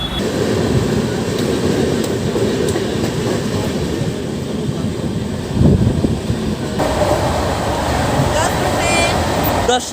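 A passing train thunders by close alongside a moving long-distance carriage on the Mumbai to Kolkata route, a steady loud rumble with a rattling surge midway and faint voices underneath.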